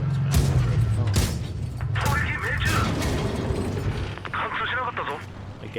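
The Ke-Ni Otsu tank in WoT Blitz fires in quick succession, several sharp booming shots a second or so apart with mechanical reload clanks between them, loud and close under a talking player.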